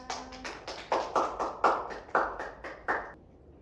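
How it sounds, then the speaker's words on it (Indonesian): Classmates clap for a student in a classroom, a run of sharp, separate claps in an uneven rhythm, fairly close and moderately loud, with no voices over them. "tepuk tangan buat temennya"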